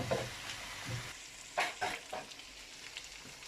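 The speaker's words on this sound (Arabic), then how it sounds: "غادي نلوح الروز يتقلى بوحدو هنا في هاد المقله هادي بوحدها" Rice frying alone in oil in a pan for paella, with soft sizzling and a few scraping stirs of a utensil, fairly quiet and close.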